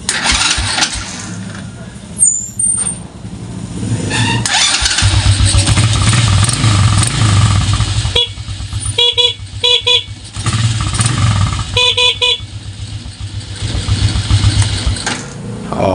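A motorcycle engine cranks and revs loudly after a Domino Honeywell switch installation, interrupted by several short bursts of a beeping horn, with brief speech in the background.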